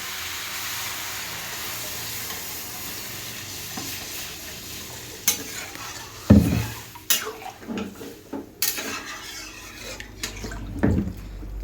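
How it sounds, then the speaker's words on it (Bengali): A spoon stirs tomatoes in a cooking pot of dal over a soft background sizzle, with scattered scraping clinks and metallic knocks against the pot growing busier in the second half. "টমেটোটা দিয়ে একটু নাড়াচাড়া করে এর মধ্যে আমি দিয়ে দেবো জল"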